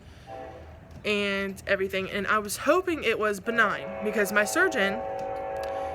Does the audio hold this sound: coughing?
no